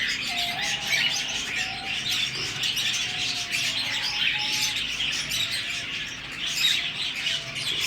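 Pet doves kept in a cage give a steady run of soft chirps and calls, a continuous busy bird chorus with no voices over it.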